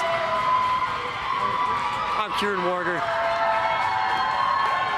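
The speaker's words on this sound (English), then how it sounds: "Sorry I couldn't hear you there, but the crowd's a little loud right now." Loud crowd at a college ice hockey rink, Utah Utes at Colorado Buffaloes, roars and cheers steadily while someone speaks close over it and a whistle-like chirp cuts through briefly.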